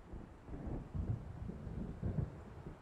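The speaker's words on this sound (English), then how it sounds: "It seems there's a storm coming." Low distant thunder of an approaching storm in the video game Alan Wake, soft rolling rumbles rising and falling with no speech.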